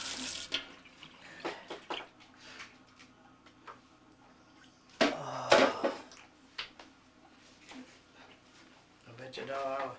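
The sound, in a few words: water being poured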